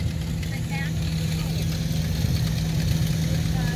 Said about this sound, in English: Well, the tow tractor drove away. Now he's coming back.